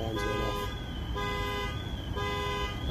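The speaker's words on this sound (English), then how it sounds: "your alarm's going off." Car alarm blaring on a street, a loud harmonic tone repeating in regular cycles roughly every second, sustained over steady traffic rumble.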